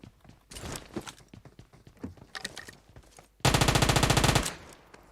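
Loud, rapid burst of automatic gunfire in PUBG Mobile, a steady stream of around twenty shots lasting about a second, preceded by quieter scattered game sounds and footsteps.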